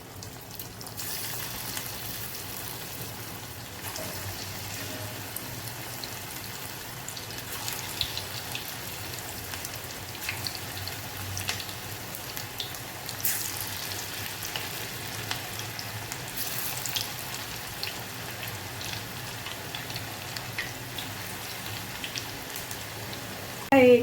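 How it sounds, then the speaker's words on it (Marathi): Small portions of onion and potato bhaji batter fry in hot oil, a steady bubbling sizzle with fine crackles throughout, close up, and a faint clatter at the very end. "आता आपल्याला छोटे छोटं असं सारण घेऊन थोडं थोडंसं फ्राय करायला घ्यायचे भजी."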